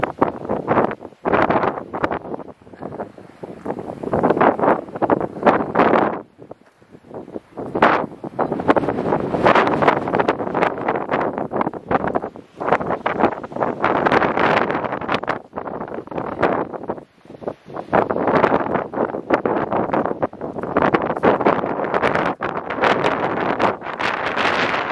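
Wind buffets the microphone outdoors on the Suffolk coast at Aldeburgh beside a Martello tower, a loud, continuous gusty rumble that rises and falls throughout with no clear talk.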